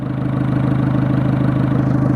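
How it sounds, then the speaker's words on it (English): A car engine idles steadily after a turbo rotor cover repair, its low, even rumble pulsing at a regular beat, loud and close, with no voices over it. "So I've got the engine running now, as you can hear."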